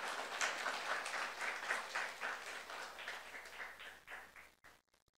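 A church congregation at a Saturday youth service applauds in steady rhythmic clapping that gradually thins out and fades to a few last claps.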